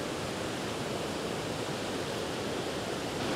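A strong river current rushes over large rocks at Rocky Island in the Dooars, a dense, even roar of water with no pauses, steady and close throughout.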